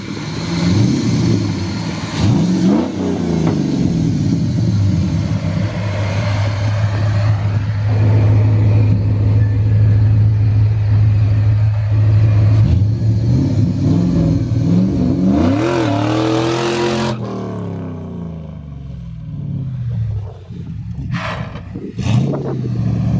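A car with a stock 5.3 engine accelerates hard on a street, a loud continuous roar with rising revs and gear changes, close by, ending in a few sharp bursts.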